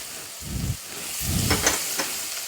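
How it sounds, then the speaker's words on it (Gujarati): Chopped onions dropped into hot oil already crackling with mustard seeds and asafoetida, a loud sizzling hiss that flares up in bursts and holds steady, close to the pan with no talking. "હિંગ નાખ્યા પછી આપણે સીધો ડુંગળીનો વઘાર કરી"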